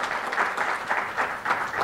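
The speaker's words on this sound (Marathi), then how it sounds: "जोरदार टाळ्या जयंत देवांच्याबद्दल झाल्या पाहिजे" An audience at a book launch ceremony claps in a dense, lively patter, the applause pulsing slightly as it carries on for about two seconds.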